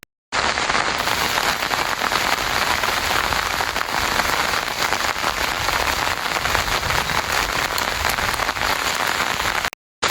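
Steady, dense rain falls in a rural village beside the Teesta river, a continuous close hiss of drops on surfaces that holds at even loudness for the whole stretch with no voices.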